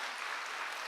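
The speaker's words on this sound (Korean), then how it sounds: "박수 한번 쳐주세요" A church congregation claps briefly, a short even wash of many hands applauding at moderate level with no voices over it.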